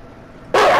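A dog in the video game Until Dawn gives a single loud, close bark that bursts in abruptly after near silence.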